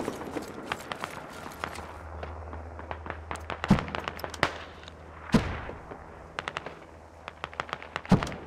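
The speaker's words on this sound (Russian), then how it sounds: "Выстрел" Gunfire in the military shooter Squad, with sharp, loud single shots and short bursts cracking irregularly over a low steady hum. Some reports are close and punchy, while others are thinner and farther away.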